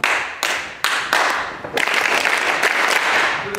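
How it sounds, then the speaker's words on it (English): Audience clapping together in a warm-up at an event, starting with a few sharp, evenly spaced claps that build into a dense burst of group clapping. "can everyone do this clap?"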